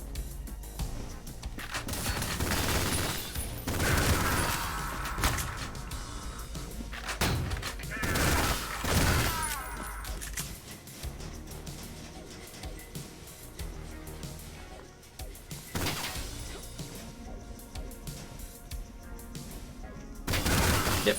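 Bursts of gunfire from the retro shooter Ion Fury, loud and close, fired repeatedly in short volleys across the stretch with brief pauses between, no voices over it.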